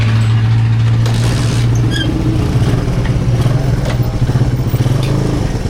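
A motorcycle engine idles loudly and close, with a low steady drone and a rough pulsing chug throughout and light mechanical clatter on top.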